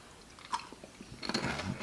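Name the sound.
chewing a hard, crunchy Korean shrimp snack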